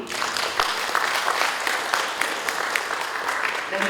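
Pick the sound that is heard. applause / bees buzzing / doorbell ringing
applause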